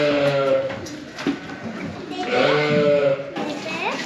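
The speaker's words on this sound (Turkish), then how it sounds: "Bak şimdi bunların içinde 70 tane büyük kuzu var." Lambs and sheep bleating in a barn, several overlapping loud, wavering calls close by, nearly continuous across the clip, with a voice speaking among them.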